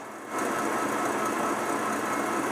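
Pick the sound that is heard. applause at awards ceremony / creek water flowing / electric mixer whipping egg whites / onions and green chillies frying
electric mixer whipping egg whites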